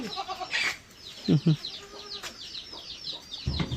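Goats and chickens kept together near a forest home, with clucking hens and a couple of short bleats up close over a busy outdoor background.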